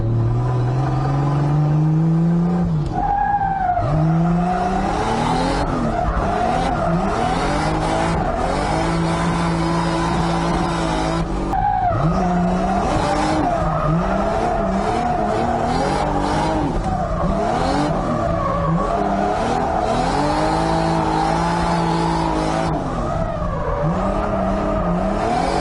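A Nissan S14 240 with a big-turbo 2JZ swap drifting around a track in second gear, engine wailing and revving continuously with long tire squeals, loud and close throughout, no talking.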